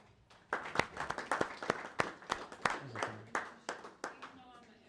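A group claps for a hackathon team at an in-person event, bursting in after a quiet start with sharp, dense hand claps that taper off toward the end.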